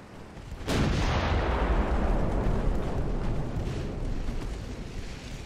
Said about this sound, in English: Come on, 11-inch guns.